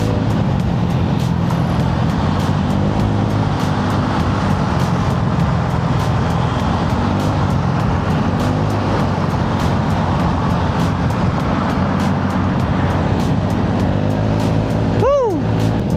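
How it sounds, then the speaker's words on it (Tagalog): Road traffic drones steadily, a constant broad rumble of passing engines close by with little variation, ending in a brief rising horn-like tone. "Traffic"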